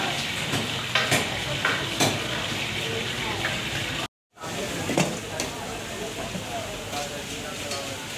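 Shrimp frying in a karahi with ginger garlic paste at a busy Karachi seafood street stall: a loud, steady sizzle with clanking stirring strokes throughout, briefly cut by a moment of silence, with street bustle behind.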